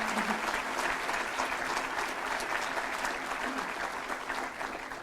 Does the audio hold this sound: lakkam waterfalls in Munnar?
no